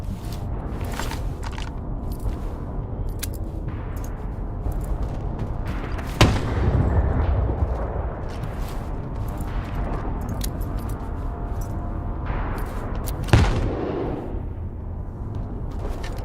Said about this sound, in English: Those nades didn't get him, but that shotgun did.